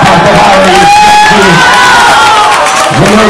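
Loud crowd cheering and applauding volunteer firefighters at a fire brigade competition, with whoops and shouts, continuous and close, and voices rising through the noise.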